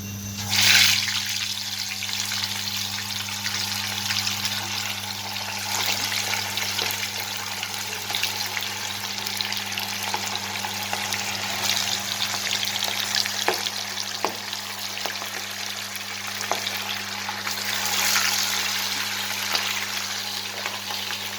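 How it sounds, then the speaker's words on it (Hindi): Fish pieces fry in hot oil in a home kitchen, giving a steady, close sizzling hiss with faint crackles that lasts throughout, with a low electrical hum underneath and no talking. "इसको ब्राउन होने तक हम फ्राई करेंगे।"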